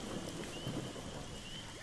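Steady rain hiss and a low rumble of thunder from a thunderstorm in the survival video game How To Survive, continuous and fairly quiet with no voices.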